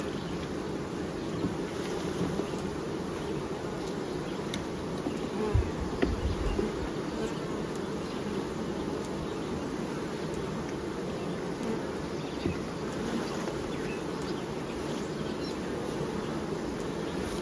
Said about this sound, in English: We're going to shake the bees down into the bottom brood chamber